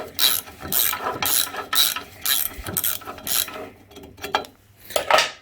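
Bolt on an Ifor Williams trailer brake being undone with a ratchet, giving close, loud bursts of rapid mechanical clicking, about seven in a row with brief pauses between them.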